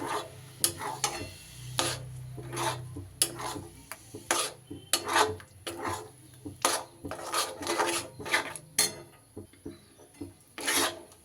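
Chhana being stirred with jaggery in a pan over a small gas burner for nalen gur sandesh, a steady run of scraping, rubbing strokes against the pan, repeated rhythmically and close, with no talking.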